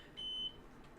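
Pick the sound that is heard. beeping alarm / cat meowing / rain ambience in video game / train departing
beeping alarm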